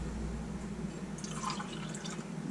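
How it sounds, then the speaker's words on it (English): Water sloshes and drips while a tomato sauce can is rinsed out for a Tuscan pasta slow cooker meal, faint trickling and splashing over a low steady background hum. "I'm going to rinse it with some of my water here"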